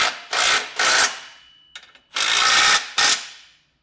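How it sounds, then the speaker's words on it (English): A ratchet with a 3/4 inch socket works new bolts on a 2024 Jeep Wrangler Unlimited base plate, giving several loud, close bursts of rapid clicking separated by short pauses. "For the new bolts, you can use a 3/4 inch socket."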